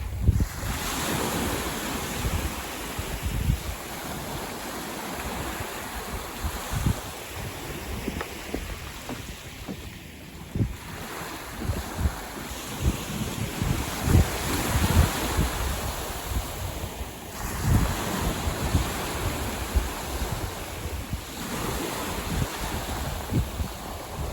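Strong wind buffets the microphone on a beach where a fishing boat is being launched, with surf washing in continuously; loud, gusty roar with waves breaking and receding, no talking.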